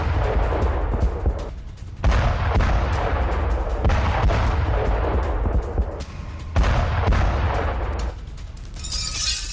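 Heavy, sustained blasts and rumbling booms roll on continuously, broken by brief gaps, loud and distant-sounding, from an explosion destroying a building.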